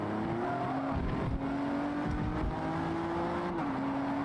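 A turbocharged race car engine in the Forza Motorsport racing game drones steadily at a held pitch, rising slightly then dropping, with a faint passing whoosh, loud and continuous with no talk.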